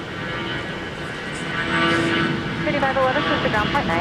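An ex-Northwest Airbus A320-200 in Delta service departs Minneapolis–St. Paul Airport, its engine roar steady and broadband, swelling louder partway through, with a voice talking over it.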